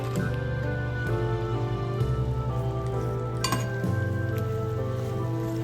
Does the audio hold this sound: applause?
no